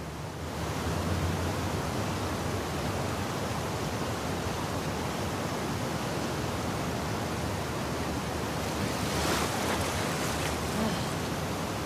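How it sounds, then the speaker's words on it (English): A steady, dense roar of rushing water and surging waves from the cut swimming section of The Last of Us Part II, near the aquarium. The noise holds constant and loud for the whole stretch. "when you were avoiding the waves"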